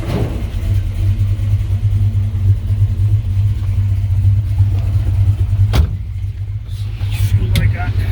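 A 1966 Chevrolet Biscayne sedan with a big-block 402 V8 and five-speed runs close by, a steady, loud, low engine drone that holds throughout, with a couple of brief sharp bursts near the end.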